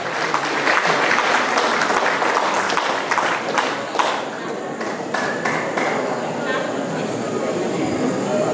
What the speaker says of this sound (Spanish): lo vamos a recibir con fuertes palmas